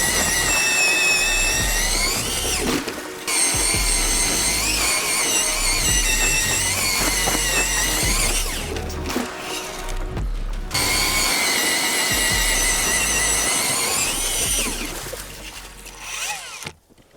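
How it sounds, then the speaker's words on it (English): Drill boring fishing holes through lake ice: two long, loud whining runs of the bit with a brief break between them, the second run winding down to a stop at the end. "Let's drill a couple holes and get some lines into the water."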